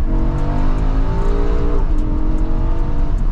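An Audi R8 V10 in normal mode shifts into second gear. The engine drones loud and close, its pitch dropping smoothly at the gearchange, then it carries on pulling.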